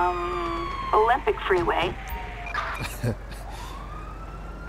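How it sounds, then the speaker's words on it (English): Emergency vehicle siren in Grand Theft Auto 5, a police patrol on the Olympic Freeway, with rising and falling wails heard under radio dispatch chatter and talk. "Dispatch requested ambulance."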